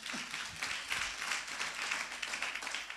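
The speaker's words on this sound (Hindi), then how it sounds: "एक बार ताली बजाओ।" A congregation at a prayer meeting claps together in a brief burst of applause, dense and steady, with a few sharper claps at the start.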